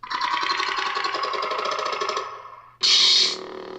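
YCSabers Anakin Skywalker lightsaber replica playing its Hunter ignition effect, a buzzing electronic hum with fast flicker that cuts out briefly, then a sharp bright burst followed by a settling hum.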